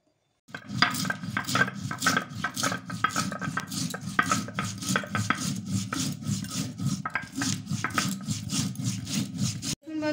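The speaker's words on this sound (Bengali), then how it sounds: "এখন আমি মশলাটা বেটে নেব" Coriander, cumin, chili, ginger, garlic and onion being ground together by hand make steady, rhythmic scraping and rubbing strokes. The strokes are close, continuous and repeated for about nine seconds, with no talking.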